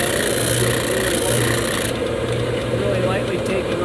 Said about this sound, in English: the disc sander is a little bit trickier because the board's a little bit wider.